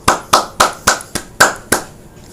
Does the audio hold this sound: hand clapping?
yes